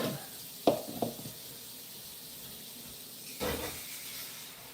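Tap water runs into a bowl being filled for a 6-gallon nano aquarium, a steady soft hiss broken by a few splashy surges early on and a louder gush near the end.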